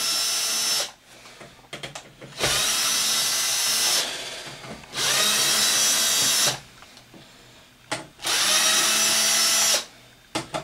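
A power driver removes number 10 Torx screws from an Xbox 360 casing, whirring loudly in three long bursts with short, quieter gaps of clicks and handling between them.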